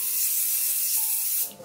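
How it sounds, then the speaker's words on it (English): Charlotte Tilbury Airbrush Finishing Setting Spray sprays in one steady, close hiss that lasts over a second before cutting off. "This is the Charlotte Tilbury Airbrush Finishing Setting Spray."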